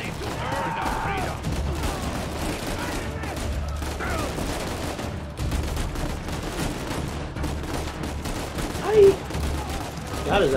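Gunfire in Uncharted 4 crackles as dense, continuous rattling shots and small impacts beneath game music and ambience, with a player's voice talking over parts of it.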